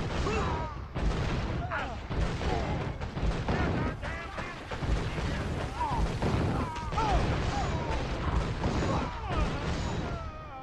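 Cannon fire in the video game Gun, heavy booming blasts mixed with crashing impacts and mechanical clatter in a dense, loud battle scene, with talk running over it.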